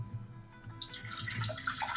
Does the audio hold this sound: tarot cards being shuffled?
no